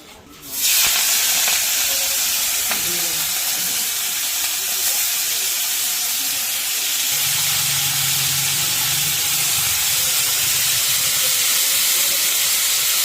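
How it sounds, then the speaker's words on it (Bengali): Prawns frying lightly in oil for a jackfruit and prawn dish. A sudden, loud, steady sizzling hiss starts and holds throughout, with a faint voice briefly underneath. "চিংড়ি মাছটা বেশি ভাজা যাবে না, হালকা ভেজে দেবো"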